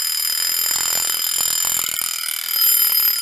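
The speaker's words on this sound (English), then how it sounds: "let's put it on alarm and let's roll around so you can hear what it sounds like" A wind-up mechanical alarm clock rings continuously with a loud, rapid metallic bell rattle, steady throughout with slight changes as the clock is handled in a workshop.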